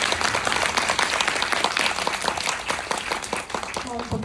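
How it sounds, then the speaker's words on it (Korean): Audience applause and cheering greeting guests at a film festival screening Q&A in Jeonju, a dense continuous wash of clapping from a seated crowd, loud and steady with a brief voice near the end. "따뜻한 눈빛과 우레와 같은 박수로 맞이해 주시기 바랍니다"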